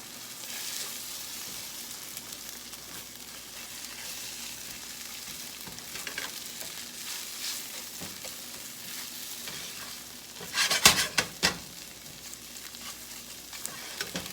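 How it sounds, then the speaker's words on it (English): Eggs with red pepper and onion frying in a pan for a hash brown breakfast, a steady sizzle throughout with scraping stirs, and a louder burst of spatula clatter near the end. "I'm gonna go ahead and kind of mix it together a little bit"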